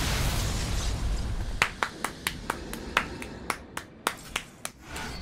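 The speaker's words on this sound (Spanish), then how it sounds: "Eso que escucharon fui yo aplaudiendo." A dozen or so sharp hand claps ring out one after another in a quick, slightly uneven rhythm, close and crisp, following a stretch of steady noise.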